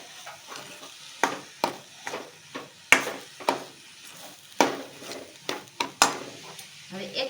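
Vegetables with spices and pepper powder are stirred in a pan for pan-shaped momos, with repeated spoon scrapes and clanks against the metal over a soft sizzle and irregular sharp knocks.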